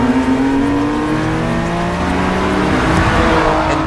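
A BMW F87 M2 engine revs hard and close, its rising harmonic tones sweeping steadily upward as the car accelerates under load, loud and continuous with no talk over it.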